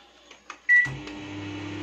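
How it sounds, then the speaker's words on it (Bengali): A microwave oven cooking rohu fish in mustard is started: a few soft clicks, a short electronic beep, then the steady low hum of the running oven. "এবার আমি মাইক্রোওয়েভে দেবো"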